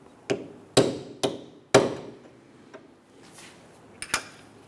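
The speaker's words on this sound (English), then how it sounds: "Using a hammer and a punch," A hammer drives a punch to stake the spindle nut on a 2003-2007 Honda Accord hub assembly: about five sharp, close metallic strikes at uneven intervals, each ringing briefly, with a short pause before the final pair.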